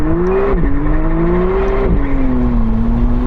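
A McLaren Artura engine revs hard during launch control: a loud, steady, high-pitched roar that holds, dips briefly twice as the revs shift, then settles, with no talk over it.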